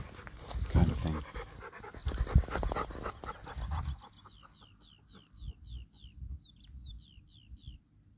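Near a farm with wide open fields, a dog pants in quick, rhythmic breaths close by for several seconds, while a bird repeats short, high chirps in the background as the panting eases.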